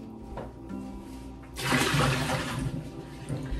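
Water pours into a bowl of flour for honey wheat bread dough, a short rushing splash that swells suddenly after a quiet start and runs on, close by, with no talk.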